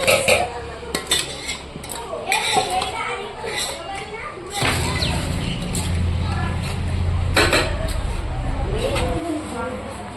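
Food is stirred and mixed in a small kadai, with metal spoon clinks and pan scrapes among children's voices and close talk.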